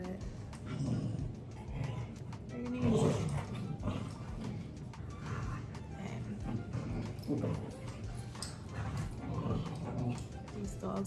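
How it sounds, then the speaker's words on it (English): Dogs bark intermittently in the background, fairly faint, while a person talks over them. "dogs are so loud"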